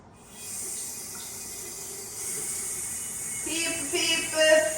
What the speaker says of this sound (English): Turn on the sink.